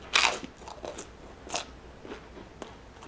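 Shrimp chips are bitten and crunched close up in a quiet room, several sharp crisp crackles spaced irregularly over a few seconds, with softer chewing between them.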